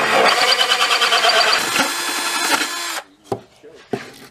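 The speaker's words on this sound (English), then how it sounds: "I've got the clutch on the drill set kind of low" A cordless power drill with its clutch set low drives screws while mounting a speaker in an amp kit, whirring loudly and steadily for about three seconds, then stopping, followed by a couple of short, quieter clicks and taps.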